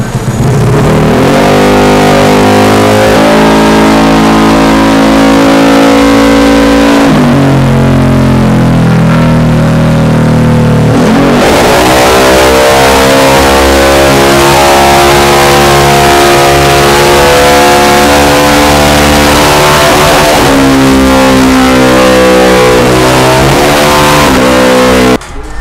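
A Vespa Matic scooter tuned for about 20 HP roars on a dyno, its engine revving hard and loud in long sustained pulls, with a brief drop in pitch before it climbs again, close and continuous with no talk.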